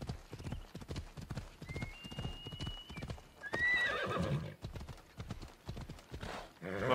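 A horse in the video game Assassin's Creed Odyssey whinnies in a high, wavering neigh over a steady clip-clop of hooves, with the hoofbeats continuing after the call fades.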